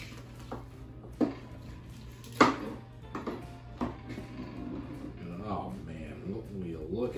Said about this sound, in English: We'll come right in and slice another one off.